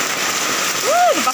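Steady rain patters on surfaces along a street by a public market in Iloilo City, a dense hiss filling the background with a brief voice-like rising tone near the end.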